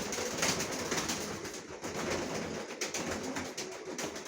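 Racing pigeons at their home loft coo while eating feed, a steady soft murmuring with a broad rustling hiss underneath, continuous and fairly close, with no voices.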